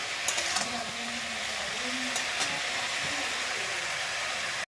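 Potatoes and cauliflower fry in a pan with a steady, close sizzle and soft stirring scrapes, carrying on evenly with no voices.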